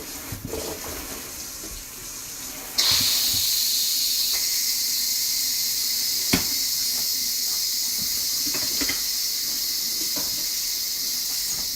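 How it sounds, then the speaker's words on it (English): A quick-release pressure cooker vents its steam with a sudden loud, steady hiss that starts a few seconds in and holds, after quieter kitchen rustling, with a few small clicks over the top. "Ashley's going to pull our quick cooker out and release the steam"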